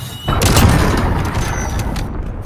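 A cruise missile strike in a Call of Duty Search and Destroy match: one loud, deep explosion hits early, then rumbles and fades gradually across the remaining seconds.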